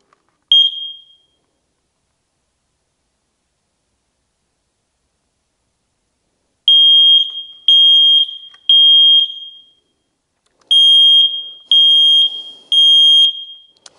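A Kidde smoke detector's loud, piercing electronic alarm beeps once during a test, then after a pause sounds in two sets of three sharp beeps.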